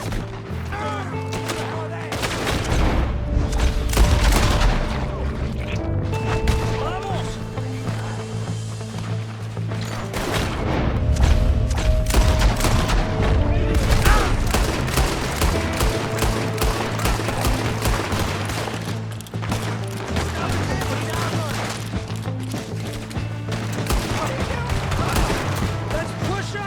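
Rapid gunfire in Red Dead Redemption 2, dense volleys of sharp cracks and repeated shots during a shootout, with game voices and music mixed underneath.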